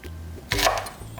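Red and green chili peppers cut with a knife on a board, a single short, crisp chop up close, quiet before and after.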